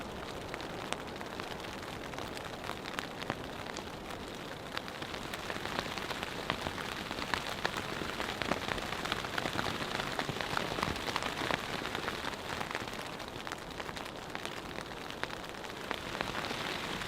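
Heavy overnight rain drums steadily on a cheap budget tent during a severe storm, a dense, continuous patter of drops close overhead with no talking.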